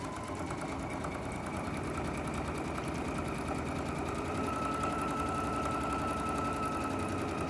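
A sewing machine stitches lines through leather, giving a continuous fast mechanical whir and chatter that runs close and steady throughout, with no talk.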